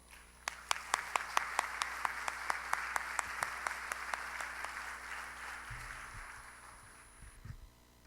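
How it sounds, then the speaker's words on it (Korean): A church congregation claps to welcome the pastor forward at a revival service. Rhythmic, unified claps sound from a large crowd in a reverberant hall and thin out toward the end, followed by low murmuring and shuffling. "나오실 때 우리 크게 박수하시면서 맞이하십시다."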